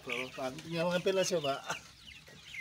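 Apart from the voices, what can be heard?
chickens swarming to eat maggots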